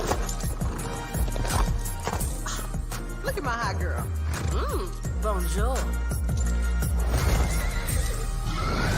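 Horse whinnying in repeated rising and falling calls, with hoofbeats underneath, all set in a busy, loud mix of other sounds and voices.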